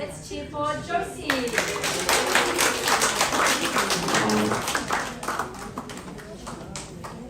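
At a graduation ceremony in Samoa, an audience breaks into sustained clapping for a graduate after a short spoken announcement, a dense and lively patter that stays strong before tapering slightly.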